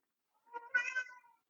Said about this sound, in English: There goes Cat.